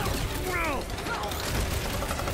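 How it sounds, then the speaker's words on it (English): Blaster gunfire fills a firefight in Marvel's Guardians of the Galaxy video game, with dense, loud rapid shots and mechanical bursts layered over each other and swooping weapon effects. "Blast his ass, Rocket."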